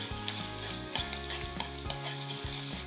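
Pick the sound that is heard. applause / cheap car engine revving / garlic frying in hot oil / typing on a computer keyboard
garlic frying in hot oil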